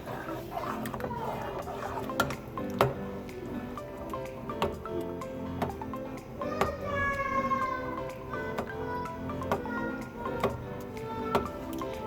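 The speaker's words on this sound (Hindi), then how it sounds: "ये हल्के हल्के हाथों से इसको चलाते रहें।" Rice kheer made with milk and fenugreek being stirred gently in a pot, giving soft repeated scraping taps at an unhurried pace, close and moderately quiet with faint background tones and no talk.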